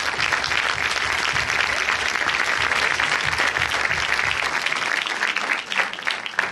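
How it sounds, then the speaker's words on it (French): An audience applauds at a Paris premiere of the comedy Heureux gagnants, dense, sustained clapping that holds steady throughout and thins slightly toward the end. "c'est important de les applaudir"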